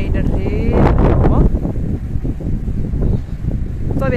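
Wind blowing hard at the Ibn Battouta grand stadium in Tangier, buffeting the microphone in loud, gusty roars that rise and fall throughout.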